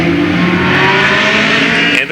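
Late model stock cars roar at full throttle on the Louisville Motor Speedway oval in 1995, a loud, dense engine drone with a steady rising pitch that continues unbroken throughout.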